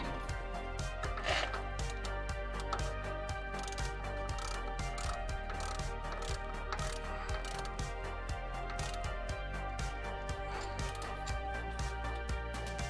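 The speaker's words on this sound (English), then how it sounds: "Let's just finish torquing these then." A torque wrench ratchets while bolts are tightened in a garage, rapid continuous clicking with steady rhythm throughout, close and moderately loud, no talking.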